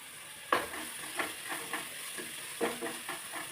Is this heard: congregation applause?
no